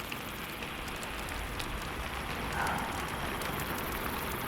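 Steady rain falls with a constant dense patter of drops throughout, close and fairly loud, with no talking.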